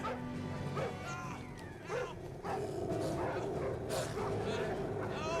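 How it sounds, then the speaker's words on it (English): Several dogs bark and yelp while chasing someone in an alien-planet scene of Stargate SG-1, their calls rising in short bursts over background score and brief commotion. "They got dogs on this planet. They're chasing down this person."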